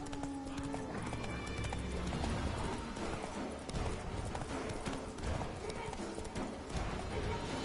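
Roach, a horse in The Witcher 3, gallops with rhythmic clip-clopping hoofbeats over game music and ambience, with a brief neigh and a voice speaking over it.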